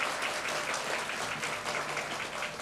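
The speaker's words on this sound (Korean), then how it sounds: "큰 박수 보내주시기 바랍니다." A church congregation at a mothers' prayer meeting applauds the praise team, a dense, steady wash of clapping that fills the room without a break and stays even in level throughout.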